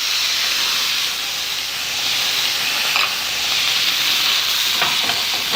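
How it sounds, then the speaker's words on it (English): Cider poured into a hot pan of whole cored apples sizzles in a loud, close, continuous hiss that swells slightly and then settles. "You put them right in there. Let's add the cider right away."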